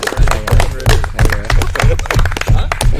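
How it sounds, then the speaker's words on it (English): An audience at a live debate show gives applause for a debater, close and loud, with dense clapping mixed with voices. "Round of applause, please."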